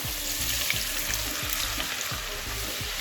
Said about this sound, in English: And now to this oil we are using around 50 grams of butter